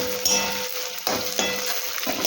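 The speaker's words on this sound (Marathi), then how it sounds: "छान फ्राय करून घ्यायचं" Peanuts fry in a pan for sago khichdi, giving a bright, close sizzle broken by several loud stirring scrapes and rattles of nuts against metal, no talk.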